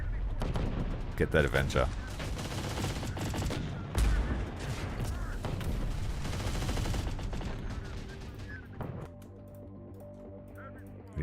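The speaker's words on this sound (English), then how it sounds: "I think they're shooting." Gunfire in the game Terminator Dark Fate Defiance, dense rattling bursts and thuds over a continuous loud battle din, with people talking over it before the firing thins out near the end.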